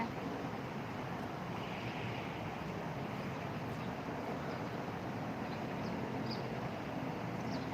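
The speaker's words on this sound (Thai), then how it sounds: "วันนี้ลมแรงนะ" Strong wind blows steadily outdoors, a loud, continuous broadband roar with gusting microphone buffeting throughout and no clear pauses.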